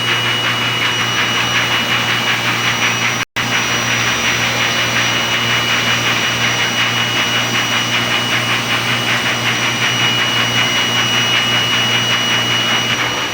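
A DTF printer running a print-head cleaning cycle hums loudly and steadily, with a whirring pump-like drone and a faint tonal whine. There is one abrupt momentary cutout near the start, and no one speaks.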